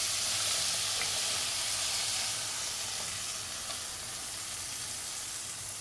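Ground masala fries in a pan for a drumstick-leaf (murungai keerai) kuzhambu, giving a close, steady sizzling hiss that fades slightly toward the end, with no talking.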